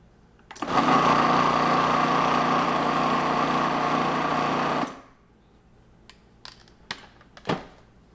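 A food processor whirs steadily for about four seconds while blending smooth, creamy hummus, then cuts off abruptly. A few faint clicks and knocks follow in the quiet.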